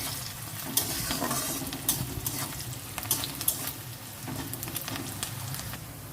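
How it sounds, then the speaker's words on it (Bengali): Salted food frying and being stirred in a pan, a loud, close sizzle with scraping stir strokes and bursts of crackle throughout, no voices. "এটাকে একটু লাল করে ভাজবো।"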